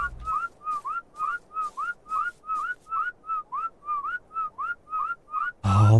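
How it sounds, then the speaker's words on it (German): A player in ARK: Survival Evolved whistles for a creature: a long run of short, rising two-note whistles repeated rhythmically and close, about fifteen in a row, ending in a brief louder burst of noise. "Wie oft soll ich denn noch pfeifen?"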